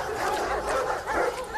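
A dog gives a quick run of yipping barks and whimpers, fairly close and moderately loud over a short moment.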